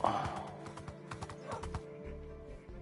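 A horse in the Minecraft video game gives a few hollow clip-clop hoof sounds and a brief whinny, moderately loud against light clicking and quiet game background.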